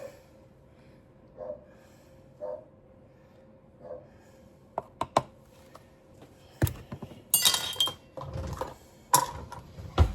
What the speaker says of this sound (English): And then we're just going to stir this up.